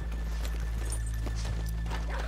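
Horses' hooves in Red Dead Redemption 2 clip-clop at a slow walking pace over a steady low hum, with a faint whinny in the background.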